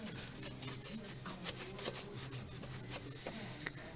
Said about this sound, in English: Use the brush to get in everywhere you can't get by hand.